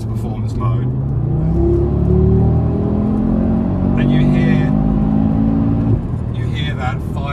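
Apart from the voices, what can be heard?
Audi five-cylinder engine growl accelerating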